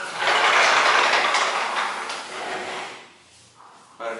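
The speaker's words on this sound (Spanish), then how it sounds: "Este cubo, se abren las puertas" Cabinet doors in a house are opened, giving a broad sliding and rattling rush that fades, followed by a brief sharp knock at the end.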